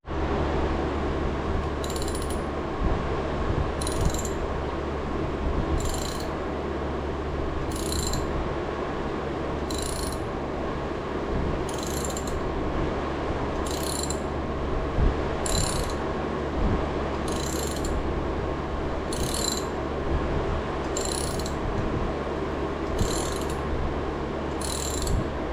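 Old broken wheel studs are worked out of an 80 Series Land Cruiser, with a steady mechanical drone and about a dozen evenly spaced, sharp ratcheting bursts roughly every two seconds. No one speaks.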